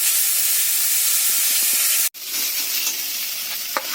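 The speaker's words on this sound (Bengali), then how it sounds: "এরকম ভাবে সব মশলাগুলো অল্প অল্প করে ভেজে একটার পর একটা দিয়ে আমি মশলাটাকে কষিয়ে নেব।" Onion and garlic paste with spices frying in a pan, a loud dense hiss that cuts out abruptly partway, then returns as quieter sizzling with occasional stirring knocks.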